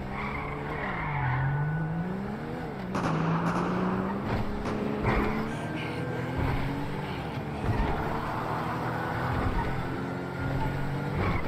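A car in GTA V zombies realism mode reversing and maneuvering, with engine drone sweeping up and down, tire skids and a few sharp impacts, continuous and fairly loud with no clear speech.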